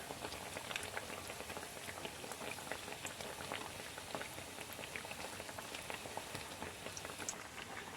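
Potato bajji fry in hot oil with a dense, even crackle and fizz that holds steady throughout, faint and close, with no voices.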